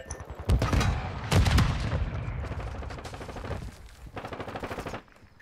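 Rapid bursts of automatic gunfire in a Call of Duty ranked Search and Destroy match, loud close volleys with sharp repeated shots and brief pauses, no talk over them.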